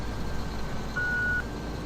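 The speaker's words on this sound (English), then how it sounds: "Did you hear him beeping?" In Farming Simulator 17, a vehicle's reversing alarm gives a clear electronic beep lasting about half a second, then the start of another, over a low engine rumble.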